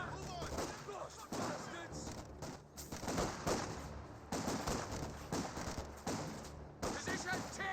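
Rifle grenade and gunfire in a Company of Heroes 2 battle, repeated loud blasts and shots in irregular clusters, mixed with a talking voice over the combat.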